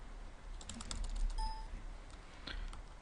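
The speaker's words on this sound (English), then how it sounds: "Second, I'm going to type the command." Fingers type commands on a computer keyboard in a quick, close, fairly quiet patter of key clicks, briefly pausing before a final short burst of keystrokes.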